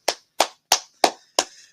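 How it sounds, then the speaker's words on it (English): Five sharp, evenly spaced claps ring out alone, close and fairly loud, at a fundraiser event celebrating money raised for an awareness foundation; the last clap trails off slightly longer. "A round of applause"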